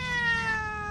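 A cat meows once in a steady, drawn-out tonal call, fairly close and loud, with no talking over it.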